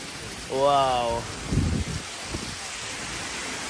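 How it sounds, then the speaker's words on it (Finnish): Heavy, fresh rain pours steadily at a Maldives island resort, a constant hiss throughout; a man briefly exclaims over it partway through. "nyt tulee vettä hienosti. Ihana raikas vesisade."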